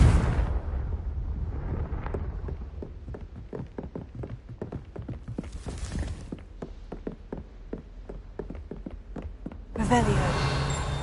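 The Confringo fire spell explodes in Hogwarts Legacy, with loud roaring blasts at the start, in the middle and near the end, separated by quieter stretches of quick tapping footsteps.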